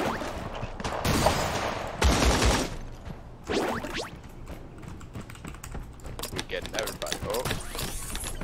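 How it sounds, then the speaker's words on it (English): Gunfire in the Creative Destruction battle royale game, with bursts of shots and loud impacts scattered through the clip over game noise, while a player talks. "Shooting from all over there."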